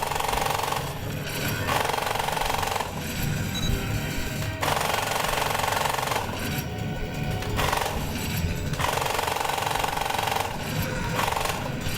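Rapid automatic machine gun fire from a Crisis Zone arcade cabinet, loud rattling bursts in repeated stretches of a second or two separated by brief lulls, over a continuous gritty arcade background.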